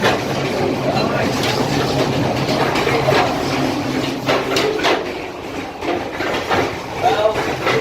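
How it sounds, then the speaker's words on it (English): An overnight train runs through Vietnam with a continuous rolling rumble and clickety-clack of the wagons, loud and close, with metallic knocks and rattles scattered through it. "Well, this is my overnight train tonight."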